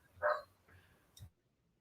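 Dogs barking at the neighbors outside during an indoor gathering: a single faint bark followed by a softer yip, distant and brief, with no voices over it.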